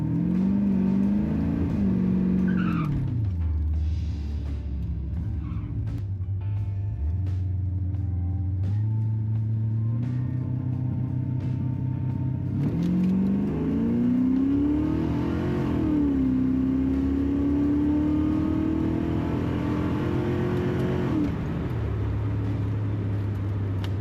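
Drag racing cars at Knoxville Dragway rev and accelerate in long rising engine pulls, loud and sustained, with gear-change dips and rumbling idle between runs.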